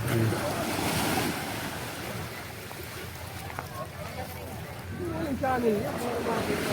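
Ocean waves washing in at high tide on a beach during a coastal clean-up, a continuous rushing surf with wind buffeting the microphone and some background sound from people nearby.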